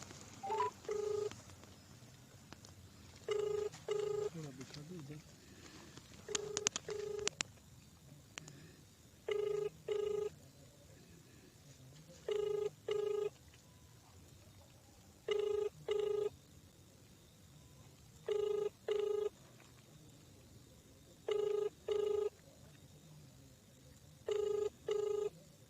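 A telephone call placed to a food inspector rings unanswered: evenly spaced ring tones repeat about every three seconds, roughly eight bursts, clear over a faint background.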